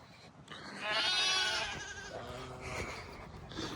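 Sheep and lambs bleat outdoors on a farm, one loud wavering bleat up close followed by fainter overlapping calls.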